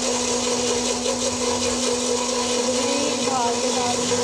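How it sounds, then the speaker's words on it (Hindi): A kitchen blender whirs steadily while mayonnaise is being made, a constant motor drone with a grinding, churning texture that runs throughout at close range. "ब्लेंडर जो है वो हमारा चलता रहे, तो रोकना नहीं है बिल्कुल भी"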